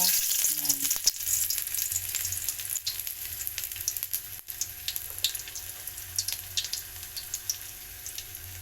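Ginger sautés in hot oil in a pan, a loud, continuous close-up sizzle and crackle that runs steadily throughout with a few light stirring scrapes.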